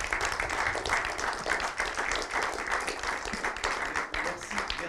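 An audience gives a steady round of applause at a conference session on economic and financial crises, a dense clapping texture that holds evenly for several seconds.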